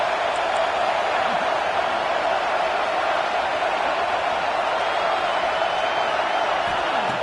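Football stadium crowd early in a game, a continuous loud roar of fans cheering and shouting, dense and steady throughout with no pauses, heard from within the stands.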